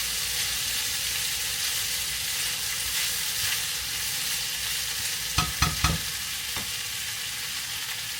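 Pulao ingredients fry until golden brown in a rice cooker pot with a constant loud sizzle, and a few sharp scraping clinks of stirring land near the end.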